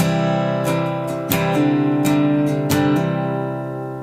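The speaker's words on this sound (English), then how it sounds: "there's this hammer-on pull-off thing going on" One strummed guitar chord rings out while single notes are hammered on and pulled off over it, so the pitch shifts without new strums.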